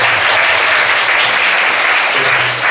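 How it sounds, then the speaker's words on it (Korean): A church congregation applauds during a Friday prayer service, steady dense clapping from many hands filling the room, loud and sustained throughout. "같이 왔는데 우리 박수 한번 하실까요?"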